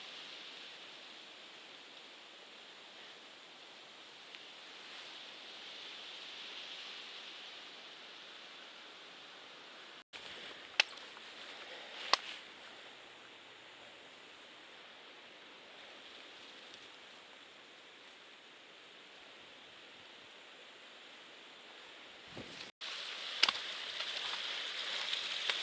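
Rain-fed waterfall in Shenandoah National Park rushing steadily as a broad, even hiss, moderately distant, with a few brief clicks and knocks close by.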